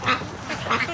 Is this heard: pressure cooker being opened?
no